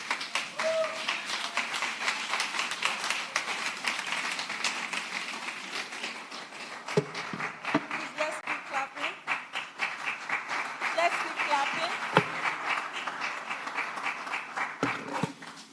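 An audience at the TELexOwutu 2023 event keeps clapping for an honoured speaker, a long stretch of steady, fairly loud applause with some individual sharp claps standing out, alongside faint voices.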